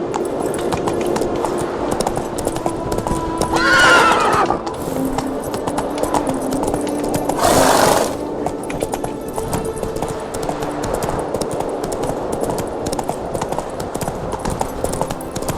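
Horse hooves clip-clop at a steady gallop in The Witcher 3 video game, continuous through the clip, with two brief louder surges of noise or whinnying around the middle.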